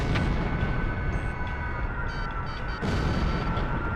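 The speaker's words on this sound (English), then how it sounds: "They're just tossing bombs all over the place." Bombs exploding across a city during an air raid in Ace Combat Zero, heard as a loud, continuous barrage of deep rumbling blasts with a sharp burst near the end and no voices.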